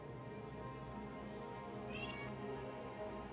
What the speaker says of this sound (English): I just hear the cat in the background.